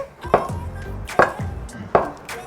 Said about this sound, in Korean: 두부는 이렇게 해가지고 좀 크게 할까 아니면 작게 해줄까